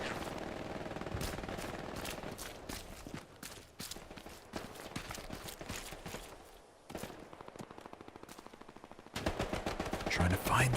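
Dense automatic MG42 machine-gun fire in the Hell Let Loose game, a continuous crackle of rapid bursts with short gaps, loud and close, swelling again at the end during a competitive 49v49 match on Hill 400.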